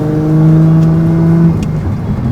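Datsun 280Z engine held at about 4,000 RPM, a loud steady droning hum close by that drops away after a second and a half into rumbling road noise.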